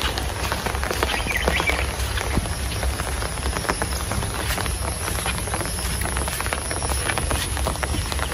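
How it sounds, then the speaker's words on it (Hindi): Light rain falls steadily around someone walking to a paddy field under an umbrella, a dense, even patter of small drops with no voices. "बारिश थोड़ा थोड़ा हो रहा है"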